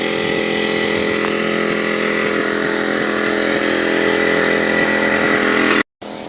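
A lawnmower runs in an Ontario town square, a loud continuous engine drone close by that holds steady for about six seconds before cutting out abruptly, then resuming briefly.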